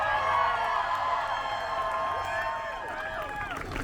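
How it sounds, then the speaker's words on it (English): Protest crowd in Quebec applauding and cheering for student unions during a rally against a tuition fee hike, a broad sustained wash of clapping with whoops and shouts, voices rising above it toward the end. "Everyone, give them a round of applause."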